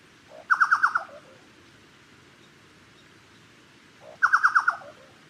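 A Chucao Tapaculo gives two loud bursts of its call, each a quick descending series of four or five harsh, throaty notes, spaced several seconds apart over quiet background hiss.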